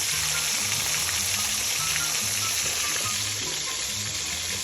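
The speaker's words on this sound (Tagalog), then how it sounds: "inilagay ko na kagad yung ipiprito nating isda mga kaigwa" Three fish frying in hot oil in a pan, a steady close sizzle and crackle that runs throughout with a low rhythmic bubbling underneath.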